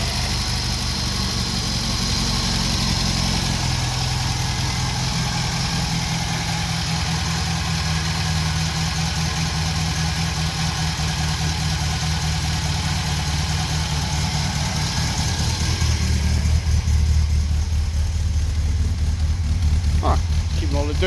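An old engine that has just cold-started runs on with a steady, rough idle and a low rumble from the exhaust. It swells slightly louder near the end.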